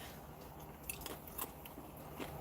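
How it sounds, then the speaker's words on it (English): Someone bites and chews thin, very hard dried banana chips from a military ration pack, a few faint crunches over a quiet background, no talk. "these super hard banana chips like this are not going to be my favorite"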